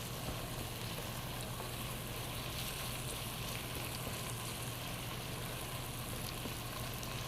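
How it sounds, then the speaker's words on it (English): Ground turkey browning in a pan for butternut squash chili, a steady dense crackling sizzle lasting throughout, close and even, with no talking. "So we're still browning this ground turkey."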